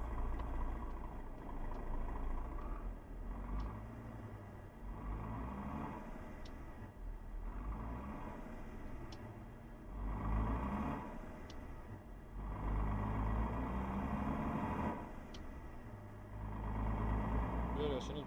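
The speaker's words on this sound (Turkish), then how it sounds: "egzozdan ses geliyor şu an" Mercedes Axor 3240 truck in Euro Truck Simulator 2, a deep rumbling exhaust drone that swells and eases in repeated cycles, with someone talking over it.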